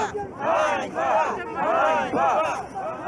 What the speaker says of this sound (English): They joined a political protest.